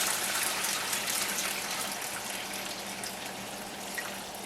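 Beans being washed in water to loosen and remove the chaff, producing a steady, continuous splashing and gushing of water throughout with no talking.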